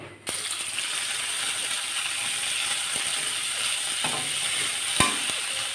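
Cumin seeds and onions frying in hot oil in a pan, a continuous close sizzle with occasional clicks of stirring.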